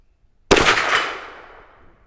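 A single sharp report from a CVA Hunter .44 Magnum rifle fired at a steel plate, loud and sudden, with the boom decaying into a lingering ring over about a second and a half.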